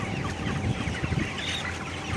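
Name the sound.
chickens clucking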